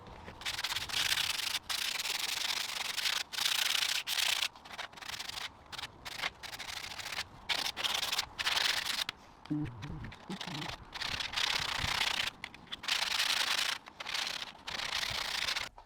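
Interior trim parts from an Audi R8 being roughened with 80 grit sandpaper, close and loud rasping strokes in quick bursts with brief pauses, one short break partway where a low voice briefly speaks.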